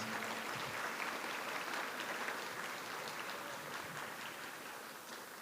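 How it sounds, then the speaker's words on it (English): Steady applause from an audience at an annual fashion show awards ceremony honoring Dr. Linda L. McDonald, a dense, even wash of clapping that holds throughout at a soft, distant level and eases slightly toward the end. "Please give Linda a big round of applause."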